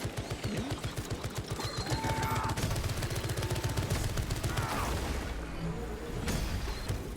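Automatic sentry turret in Space Marine 2 firing a steady stream of rapid shots, a dense rattling burst running throughout amid loud game battle noise.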